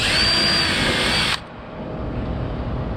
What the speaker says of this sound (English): drill a 3/16 hole right there